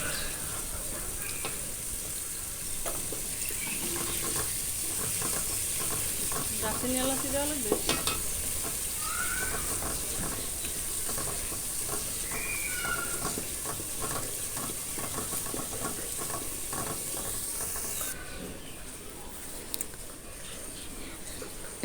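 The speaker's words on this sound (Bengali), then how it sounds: "কষিয়ে নিচ্ছি" Rui fish head sautéing with chili paste, red chili powder and spices in a pan: a continuous dense sizzle with soft stirring scrapes and occasional light taps, steady throughout.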